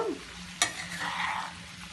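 Chopped capsicum frying with potatoes in a pan, a close, steady sizzle with a sharp spatula scrape as it is stirred, no voices.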